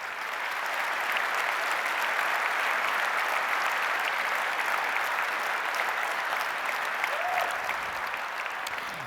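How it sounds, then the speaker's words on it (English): An audience at EVE Fanfest 2013 gives sustained, dense applause that stays loud and even throughout, with no voices over it. "I really want to applaud you guys that have participated in that."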